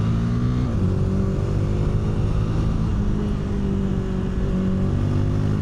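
A 2026 Honda Rebel 300 E-Clutch motorcycle engine pulls steadily under acceleration, a loud, continuous low drone with a rising tone and wind rush over it, recorded up close while riding.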